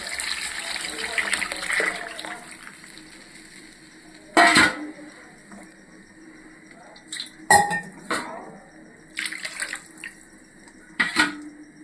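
Metal pots and utensils clink and clatter in a kitchen as gravy is ladled, poured and stirred in between, in several brief bursts.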